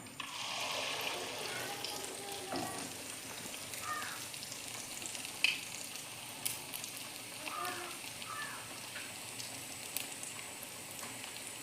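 Spoonfuls of egg batter for muttayappam fry in hot coconut oil, giving a steady bubbling sizzle with scattered crackles and pops, while a voice speaks faintly in the background.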